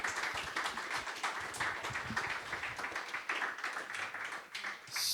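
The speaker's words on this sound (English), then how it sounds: "just one more round of applause for tonight's speakers" Audience at a Java game development meetup gives a round of applause for the evening's speakers, a steady, moderately quiet wash of many hands clapping with a few louder individual claps.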